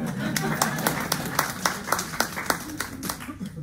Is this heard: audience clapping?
yes